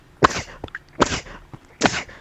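Three sharp sneezes burst out in quick succession, close and loud, with brief quiet gaps between them during a survival game session.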